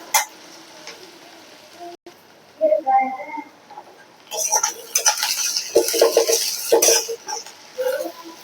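Metal spatula clanks and scrapes against an iron kadai while sautéing for a quail gravy, irregular close knocks and rattles that build into busier stirring, with talking and a cough mixed in.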